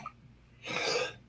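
One short, soft cough, close by, after a moment of near silence.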